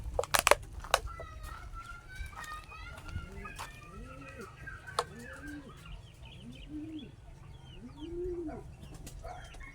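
Gamefowl breeder chickens cluck and coo while pecking at feed, a steady flock chatter with occasional sharp clucks and a few close taps, under soft background noise.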